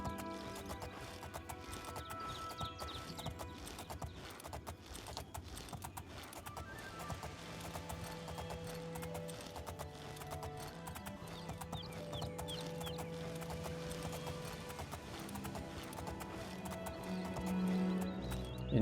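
In the video game Oblivion, a horse's hooves clip-clop at a gallop in a steady rhythm, faint and even throughout, with a neigh toward the end.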